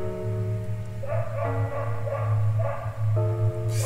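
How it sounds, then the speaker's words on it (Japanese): A dog barks and yips a few times inside a horror video game set in an eerie house, heard softly under steady, droning game music with no talking. "犬の鳴き声がしました。"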